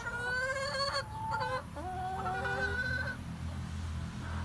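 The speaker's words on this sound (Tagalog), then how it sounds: "Yan ang ating mga manok." Farm chickens cluck and call in a run of bright, rising notes lasting a few seconds, close and clear over a low background hum, then fade to quiet.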